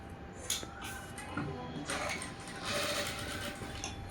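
A sewing machine stitches blouse fabric along a marked V, its motor whirring in short bursts that start and stop, close and moderately loud.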